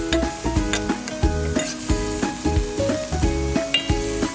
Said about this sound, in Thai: ผัดไปเรื่อย ๆ เลยครับ ใช้ไฟแรงได้เลยนะครับ